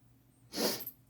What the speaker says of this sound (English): Excuse me for the sniffling